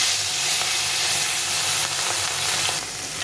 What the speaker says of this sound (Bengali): এই মাছগুলো একটু ভেজে নিই।